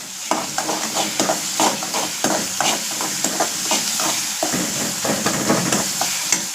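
Onions and garlic sautéing in a pan, a loud steady sizzle broken by repeated rhythmic scrapes and stirs of a spatula, close up with no talking.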